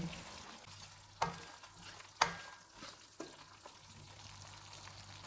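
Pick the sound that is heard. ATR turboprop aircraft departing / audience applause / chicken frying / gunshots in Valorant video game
chicken frying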